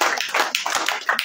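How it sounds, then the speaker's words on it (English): An audience at a church birthday celebration breaks into brief, loud, close applause, a quick burst of overlapping claps with no talking. "can I just ask for another round of applause for our beautiful women?"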